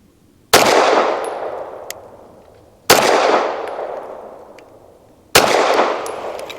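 Three loud, close pistol shots from a Bersa M2XI firing Hornady Critical Duty 135 grain rounds, each a sharp crack with a long ringing echo that fades slowly before the next, spaced about two and a half seconds apart.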